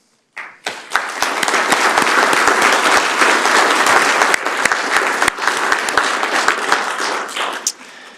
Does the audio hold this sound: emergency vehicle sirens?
no